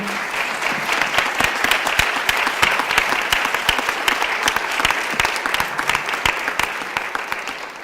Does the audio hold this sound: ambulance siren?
no